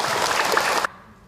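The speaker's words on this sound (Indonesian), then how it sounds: "Tepuk tangan buat Bunda." Audience applause during a religious talk to a married women's audience, a dense burst of clapping lasting under a second before cutting off abruptly to near silence.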